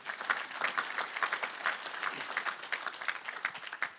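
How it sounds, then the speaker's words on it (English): Applause at a regional chamber economic forecast event, an audience giving sponsors a round of dense, even clapping that fills the space steadily and stays at moderate volume. "So let's give a round of applause to all of our sponsors."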